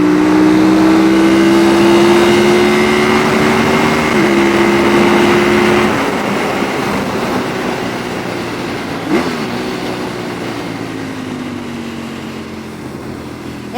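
A 1999 Ducati 996 superbike engine heard while riding, a loud steady drone with a falling pitch as it slows, one brief shift partway through, continuous wind and road noise beneath.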